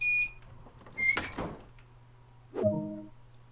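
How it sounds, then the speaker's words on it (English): Train doors locking in Train Sim World on the Isle of Wight line, with beeping warning tones, a heavy thunk of doors closing, then a second clunk and mechanical whirr, close over a low hum. "So I need to get in this seat to lock the doors"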